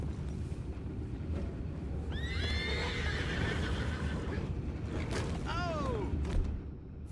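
Horses in the video game Red Dead Redemption 2 whinny twice, sharp rising-and-falling neighs, over a steady low rumble of hooves and ambient noise.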